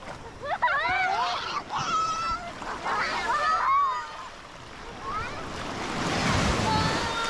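Sea waves wash onto Khao Lak beach in Phang Nga, a broad, steady surf roar under excited voices and children's shrieks, swelling louder toward the end.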